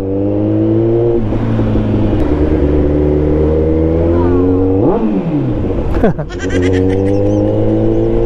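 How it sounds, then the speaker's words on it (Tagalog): A loud Kawasaki ZX-14R motorcycle exhaust revs and accelerates continuously down a street, its harmonic drone rising and falling in pitch, with a brief clatter near the end. "Ganda na maingay ang exhaust."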